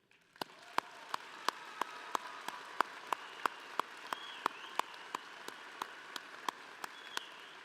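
Commencement audience clapping in a slow, steady rhythm, each clap sharp and evenly spaced, fairly faint and distant over a quiet hall hush.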